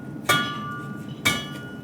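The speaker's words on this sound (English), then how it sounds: "you want to hammer it like this to chamfer the edges" Two sharp, ringing hammer blows strike hot metal at a blacksmith's anvil to chamfer the edges, spaced about a second apart, each with a bright metallic ring that decays quickly.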